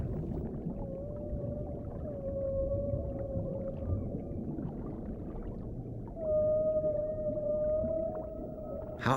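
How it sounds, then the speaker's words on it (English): Humpback-style whale song from the deep ocean: long sustained tonal moans gliding slowly in pitch over a dense low underwater rumble, one phrase in the first half and a louder, steadier one returning near the end. "All the whales in each ocean sing the same song."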